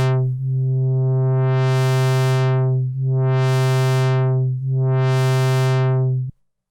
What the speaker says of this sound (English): we had that original patch of the LFO affecting the cutoff filter.